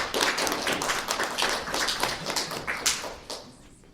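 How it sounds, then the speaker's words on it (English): Lively applause from a small audience at a poetry reading, close and dense with many individual claps, tapering off toward the end. "And give her a big round of applause."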